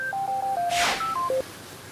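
A sequence of telephone keypad dialing tones, about seven short steady beeps in quick succession with a brief burst of noise partway through, heard alone and fairly clear.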